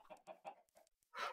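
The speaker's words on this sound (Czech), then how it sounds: "Kde jsou ty slepice blbý?" Chickens in Minecraft cluck in a short burst of several choppy calls, then a brief louder squawk, quiet and close, with no talking.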